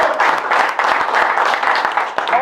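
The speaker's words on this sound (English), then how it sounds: "So big round of applause." Steady applause from a crowd at a celebration of a Lahore win, dense clapping filling the short stretch without a break.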